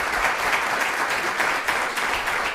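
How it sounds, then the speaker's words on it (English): Audience at an astronomy lecture gives the speaker Nolan a round of applause, steady, dense clapping throughout. "Let's give Nolan one more hand of applause"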